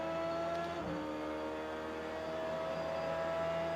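A race car in a racing video game howls steadily with a strong tonal engine whine, revs shifting slightly as it works down through the gears, loud and without talk.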